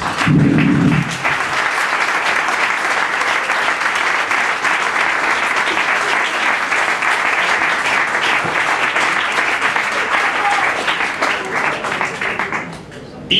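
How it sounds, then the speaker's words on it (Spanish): An audience at an evening talk and debate in Madrid breaks into loud, sustained applause that fills the room for the whole stretch before fading out at the end. "bueno, vamos a dar un aplauso."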